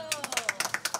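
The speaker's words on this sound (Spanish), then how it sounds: "aplauso." Audience clapping at a Nicaraguan government event for pregnant women, midwives and health brigade workers in Wiwilí, a short burst of scattered, uneven hand claps with no speech over it.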